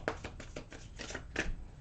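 Tarot cards shuffled by hand in a quick burst of several crisp riffling slaps, close and fairly quiet, with no talking.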